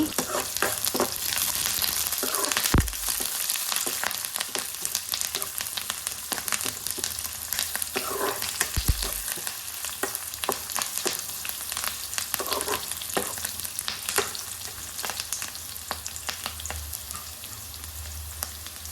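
Onions and curry leaves frying in a pan make a steady, close crackling sizzle, broken by a few low thumps and stirring scrapes.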